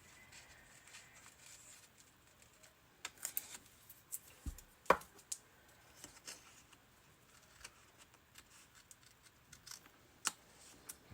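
Scissors trim paper while a reading journal is set up, giving faint, irregular snips and crisp cuts scattered through a quiet room, with one louder cut standing out.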